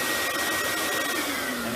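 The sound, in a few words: Vapor Clean Desiderio Plus steam cleaner vacuum starting up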